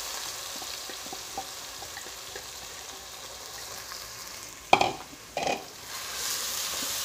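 Dried red chillies, curry leaves, fennel seeds and ginger-garlic paste fry for a drumstick and prawn gravy. A soft sizzle runs throughout, broken near the end by two loud knocks of a stirring spoon against the pan.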